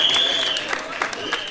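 An audience claps in a short burst of applause at a comedy event, with a voice talking over it.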